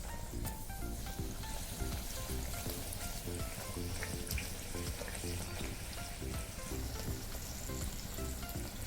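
Green spinach-coriander puri frying in hot oil, a dense continuous bubbling sizzle held at an even level throughout with no talk.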